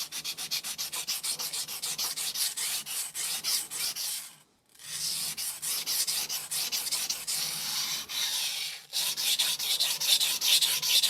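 Knife edge drawn repeatedly across a 400-grit sintered diamond stone to set bevels, producing a loud rhythmic gritty scraping with steady back-and-forth strokes and one brief pause midway.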